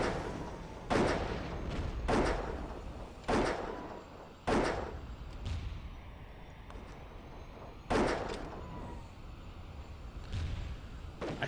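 Aircraft guns firing in the Airfix Dogfighter video game, a series of sharp loud bursts, roughly six or seven spaced a second or more apart, over a steady engine drone.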